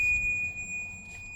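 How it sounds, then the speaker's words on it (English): A test tool wired to the ignition switch of a 1994–1997 Honda Accord gives a thin, steady electronic beep when the key turns to accessory power, faint and continuous over a low background hum. "we should get a beep when we go to accessory power"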